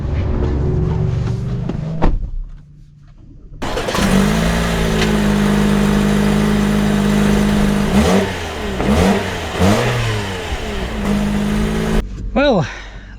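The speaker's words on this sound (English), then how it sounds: "let us set off in the Corolla Cross all-wheel drive non-hybrid" A 2025 Toyota Corolla Cross all-wheel-drive non-hybrid crossover setting off, its engine droning steadily from inside the cabin and rising through a couple of revs, with a short lull partway and someone talking over it.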